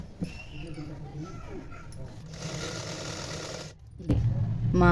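A domestic sewing machine runs in steady bursts while stitching along the folded edge of blouse fabric, with a louder, closer whir near the end; someone talks over part of it.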